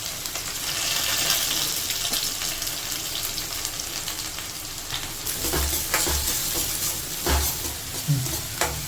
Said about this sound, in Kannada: ಈರುಳ್ಳಿ ಸ್ವಲ್ಪ ಬ್ರೌನ್ ಆಗೋವರೆಗೂ ಫ್ರೈ ಮಾಡ್ಕೊಳ್ಳೋಣ